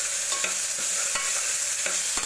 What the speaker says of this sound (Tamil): நல்லா கிண்டிடுவோம்.